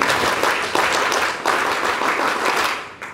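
A crowd at an ASEAN scout gathering claps together in the Indonesian scout clap, steady applause, dense and loud throughout, swelling in a few waves before fading at the end.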